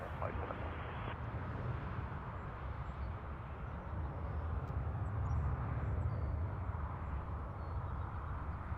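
An Air Canada Boeing 737 MAX 8 departing Toronto, a deep continuous jet roar that holds steady at a distance and swells slightly mid-clip without fading.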